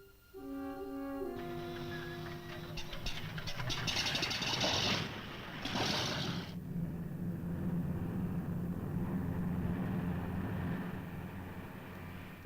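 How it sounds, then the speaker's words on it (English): Engines of a military transport aircraft carrying airborne troops to a drop zone drone in flight, a continuous loud rumble that rises after a brief tonal start and holds steady. "The engines are droning away, eating up the distance."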